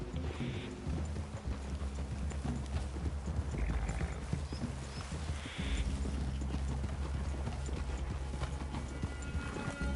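Horse hooves clip-clop steadily through the whole stretch in Red Dead Redemption 2, several horses walking together near a forest clearing, with a brief whinny and low ambient game sound underneath.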